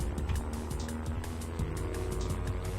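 A plane's engine throttling up in Voxel Turf, a buzzy rising drone with rapid rhythmic pulses and shifting pitch steps, loud and continuous.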